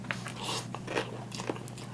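A few sharp, close crunching bites into a crispy fried beef wonton from Chowking, with irregular crackles and chewing over a low background hum.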